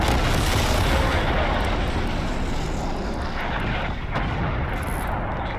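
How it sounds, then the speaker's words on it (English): Napalm strike aircraft in Call of Duty Black Ops Cold War, a loud continuous roar of jet engine and fiery rumble filling the whole clip, steady and dense with no voices. "Sitrep, napalm strike inbound."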